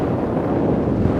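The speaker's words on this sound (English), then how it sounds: "It's quite windy, so I'm imagining that it's going to be picking up quite a bit of the wind as I'm moving towards it." Wind buffets a lavalier microphone outdoors on a blustery day, a loud, steady low rumble filling the whole stretch with no talk.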